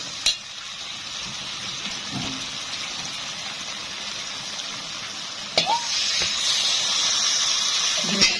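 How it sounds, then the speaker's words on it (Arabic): Steady sizzling and frying hiss of chicken fills the clip, with a louder surge of bubbling and steam as water is poured into the hot pot partway through. "وانزل عليه بقى بشويه ميه"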